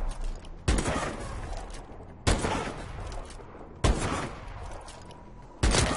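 A MORS sniper rifle in Call of Duty Advanced Warfare fires four loud, booming shots roughly every one and a half seconds, each with a sharp crack and a long rumbling decay, with no speech.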